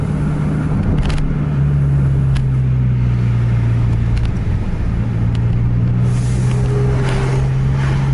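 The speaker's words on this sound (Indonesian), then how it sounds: "Gagal overtake truk yang di depan." A car trying and failing to overtake the truck ahead, with a loud steady engine drone and road roar close by, holding a constant pitch throughout.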